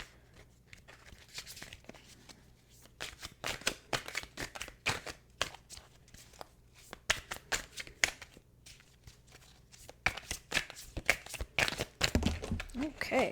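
Tarot cards are shuffled and pulled from the deck in a run of quiet, close riffles and crisp slaps that come in irregular bursts, getting busier toward the end.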